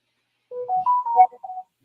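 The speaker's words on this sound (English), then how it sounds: "I heard my phone went off the same time as yours." A phone ringtone goes off, a short melodic electronic tune of a few quick notes lasting under a second and a half, fairly clear and alone with no talk over it.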